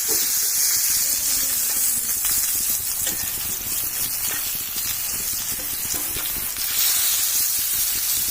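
Brinjal slices fry in a pan with a little water added, giving a steady loud hiss and sizzle throughout while the pieces are turned, with no one speaking.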